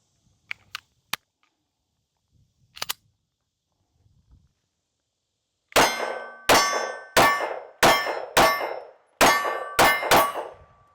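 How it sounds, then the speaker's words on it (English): Rounds from a Smith & Wesson Shield Plus Carry Comp 9mm pistol strike a steel target, giving about eight loud, ringing metallic clangs in a quick, steady string, preceded by a few faint sharp clicks. "at least I hit the steel target behind it, so it wasn't too far off"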